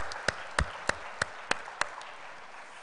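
Congregation applause during a Sunday evening worship service in a church, heard as a string of six crisp, evenly spaced claps in a steady rhythm, moderately faint with no talk over them.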